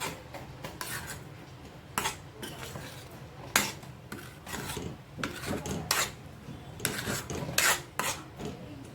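A spoon stirs a whisked mixture into spinach gravy in a pot for Hyderabadi paneer masala, giving repeated scraping, rasping strokes and occasional clinks against the vessel, close and fairly loud with no talk.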